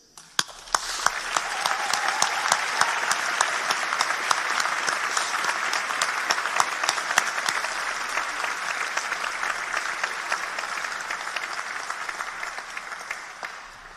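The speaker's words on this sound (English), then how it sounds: "please join me in a rapturous round of applause as a sign of thanks for their time" A large graduation audience gives a long, loud round of applause, a dense sustained clapping with some individual sharp claps standing out, holding steady before gradually thinning toward the end.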